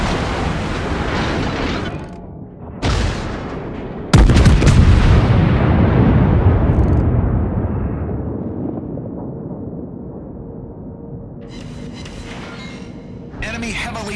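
Heavy naval guns fire salvos from the battleship Fuso in World of Warships. Several loud, close booming blasts hit abruptly, each trailing into a long rumbling decay.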